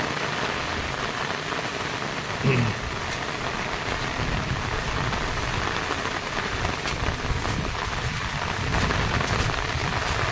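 Heavy rain pours steadily on surfaces nearby during flooding in the Philippines, a dense constant hiss with occasional low rumbles, and no voices.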